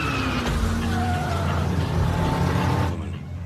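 Race cars in a film race scene roar past with loud, dense engine noise and a few rising tonal whines, the din dropping off abruptly near the end.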